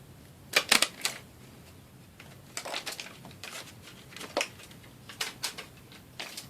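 Scissors cutting out silver stickers give a series of short crisp snips and paper rustles in irregular clusters, close and fairly quiet, with no talk.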